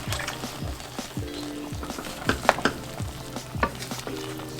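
Chicken and broccoli fry in a single pan while being stirred, a steady sizzle under repeated scraping strokes and clinks of the utensil, close and moderately loud.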